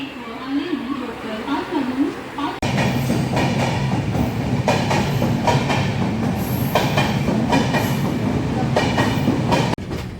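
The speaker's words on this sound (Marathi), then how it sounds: "फायनली आपली ना आता ट्रेन सुटलेली असा" A Diva–Ratnagiri Konkan Railway passenger train departs, rolling steadily with a constant rumble and clatter, voices and crowd noise mixed in; the sound swells abruptly a few seconds in.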